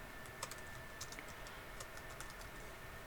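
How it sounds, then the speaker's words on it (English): Quiet, steady typing on a computer keyboard, a run of soft key clicks with brief pauses, entering text into a design program. "And I'll just type in"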